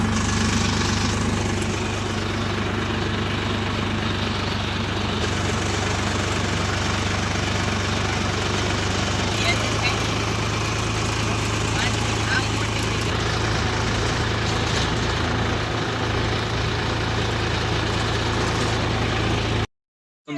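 A tractor engine idles steadily and loudly for about twenty seconds with a constant low rumble and vibration, then cuts off abruptly at the end.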